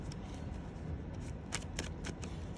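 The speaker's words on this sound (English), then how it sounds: "I'm going to shuffle the pictures off these" A deck of picture cards being shuffled, quiet riffling bursts clustered near the end over a steady low background hum, with no talk.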